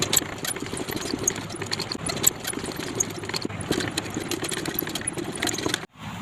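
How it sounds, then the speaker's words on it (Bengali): Sewing machine stitching a kurti design, a fast continuous mechanical whir with rapid ticking needle strikes, moderately close and steady before stopping abruptly near the end. "সেলাই শুরু করব।"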